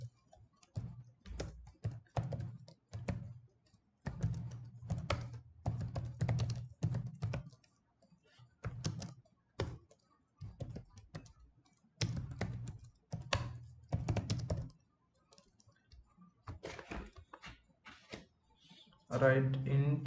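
Code is typed on a computer keyboard in bursts of brisk, close clicking separated by pauses, with a voice heard briefly near the end.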